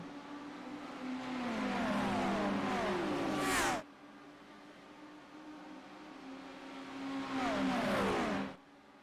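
GT3 race cars in a racing video game launch at the start at Monza. Two loud waves of engine roar sweep past with falling pitch, separated by a quieter engine drone.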